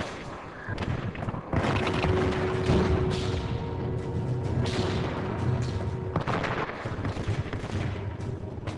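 Battle sound effect of British guns firing, a dense stretch of gunfire and booming artillery reports mixed with crackling volleys and rumble, loud and continuous.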